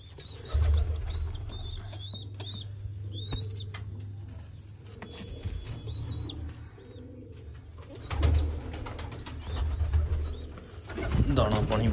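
Pigeons coo in low, repeated rumbling bursts at a loft where a female pigeon is feeding her chicks, with chirps and faint bird calls above and occasional rustling or wing movement close by.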